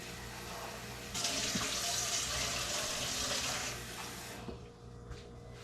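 Warm water running from a kitchen tap for bread dough, a steady close splashing flow that shuts off partway through, leaving quiet room noise and a few small clinks.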